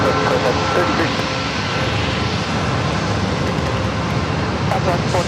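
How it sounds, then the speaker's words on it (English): A corporate jet taxis toward runway 27 at San Diego airport, its engines giving a loud, steady broadband roar that holds without a break while radio chatter and voices talk over it. "Another corporate jet heading over to 27"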